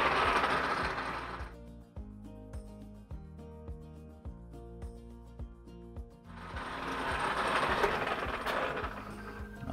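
A lathe fitted with a TCM carbide cutter turns a Land Rover Series III wheel drum. A loud, hissing cutting sound at the start gives way to rhythmic mechanical clicking, then the cutting noise swells again, with no talk.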